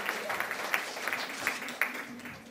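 Applause from a crowd at an outdoor Peace Run sports event in Belgrade, a steady patter of clapping lasting a few seconds at moderate volume.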